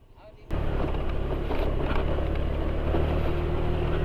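A Honda Click 125 scooter engine drones steadily on a ride, starting abruptly and holding a constant hum mixed with rushing wind noise throughout.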